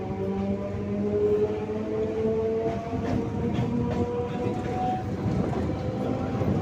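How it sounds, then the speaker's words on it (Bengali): A local train pulls out of Lake Gardens station in Kolkata with a continuous rolling rumble and drawn-out tonal whines that slide in pitch, heard from on board. "আমাদের ট্রেন লেক গার্ডেন স্টেশন থেকে ছেড়ে দিল"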